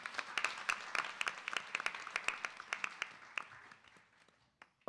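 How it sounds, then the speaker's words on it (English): Audience applause at a Navratri classical dance event, a modest group clapping in quick separate bursts that thin out and fade toward the end, with a last clap or two. "Let's give the parents a big round of applause,"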